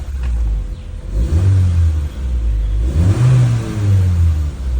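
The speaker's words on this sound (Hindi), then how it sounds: "तो ठंडी गाड़ी को रेसे क्यों मार रहे हैं आप?" A cold Honda Civic (10th generation) engine revved hard twice in quick succession, each blip rising in pitch then falling back to a rough idle, loud and close with a deep rumbling exhaust.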